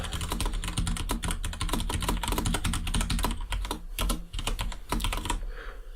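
Close-up typing on a computer keyboard: a rapid, continuous patter of key clicks with brief pauses, fairly quiet and heard alone.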